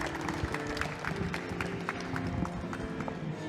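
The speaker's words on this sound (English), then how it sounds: "Can we get a round of applause for our 3rd place contender, Nixotica?" Audience clapping rolls through a gaming tournament LAN event, an even patter of many hands at moderate distance, with no speech in the clip.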